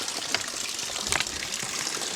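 Cold spring water in rural Wakayama gushes steadily from a large lidded tank down into a pipe under strong pressure, a continuous close rushing flow with a few brief louder surges.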